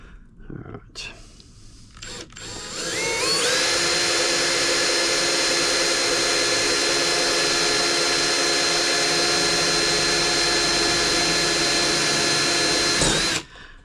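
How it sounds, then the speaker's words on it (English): A power drill boring a hole for M4 bolts through a rib in the hull of a Proboat Blackjack 42 RC boat, running loud and steady for about ten seconds after brief handling noise. "Find a drill."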